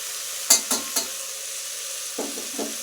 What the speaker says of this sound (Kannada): ಈಗ ಒಂದು ಸ್ವಲ್ಪ ಚೆನ್ನಾಗಿ ಫ್ರೈ ಮಾಡೋಣ